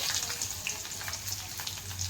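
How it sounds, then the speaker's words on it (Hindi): Onions sizzling in a hot pan for a home-cooked saag dish, a steady soft frying hiss with faint crackles and no talking. "तापरे दे देमा प्याज"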